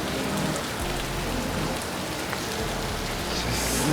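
Steady rain falling outdoors, a dense, even hiss of drops hitting surfaces that carries on without a break, moderately loud, with no voices.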